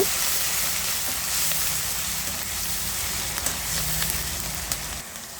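Onion paste frying in a pan for a fish and tomato curry, a steady close sizzle and crackle with occasional soft stirring scrapes.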